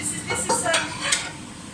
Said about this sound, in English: It's constantly juggling pans, trying to find things that you can't actually find or that are still dirty in the dishwasher